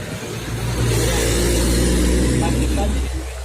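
A car goes by close at hand, its mid-pitched engine swelling to a steady roar and then easing off over a few seconds.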